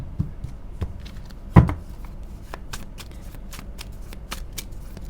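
Tarot cards are shuffled by hand in a close, quiet riffle of soft flicks and slides, with one sharper tap of the deck partway through and no talking.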